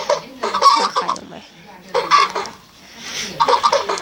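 Chickens on an automated meat-chicken farm cluck in three separate bursts of overlapping calls, close and moderately loud, with quiet gaps between the bursts.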